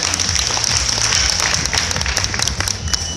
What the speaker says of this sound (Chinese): 那也可以为他再次的鼓鼓掌